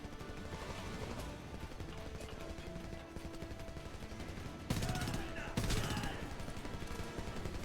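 Sustained machine gun fire and scattered gunshots in the war video game Homefront, a dense continuous rattle with a couple of louder bursts near the end, mixed with game background noise.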